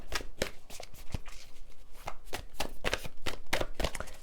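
A deck of Work Your Light Oracle cards is shuffled by hand, close and moderately quiet, in a quick, irregular run of crisp riffling flicks and soft slaps.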